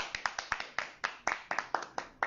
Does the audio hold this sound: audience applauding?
yes